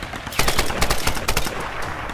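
Gunfire in the video game Tomb Raider 2013: loud rapid bursts of automatic shots crackle close, tightly spaced pops running almost continuously.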